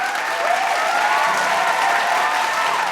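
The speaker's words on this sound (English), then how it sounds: "Let's give all of them a warm round of applause." Warm applause from a seminar audience at a Rotary District 3800 public image event, steady and dense for three seconds with no break, standing alone without speech.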